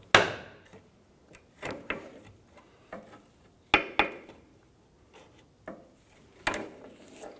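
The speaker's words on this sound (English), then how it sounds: "We're going to use our pry bar and we're going to go ahead and tap that" A pry bar taps against a metal clamp band on a steering rack bellows boot of a 2004-2008 Acura TL, giving a series of sharp, irregular close knocks with quiet handling noises between them.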